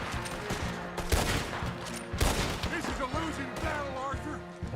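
Rifle gunfire in Red Dead Redemption 2, a few sharp shots cracking out at intervals over a busy game soundscape and background music, with someone talking over part of it.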